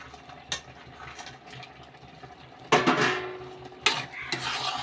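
Cashews and raisins fried in a pan for semiya payasam and stirred, with a few sharp metal scrapes of a spoon against the pan over a low frying background.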